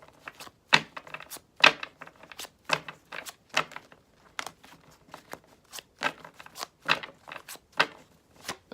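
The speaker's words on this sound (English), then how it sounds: "the Tower comes up multiple times as I shuffled" Tarot cards are shuffled by hand in a quiet room, giving soft, uneven riffling snaps and flicks in irregular bursts, close and fairly faint with no talking.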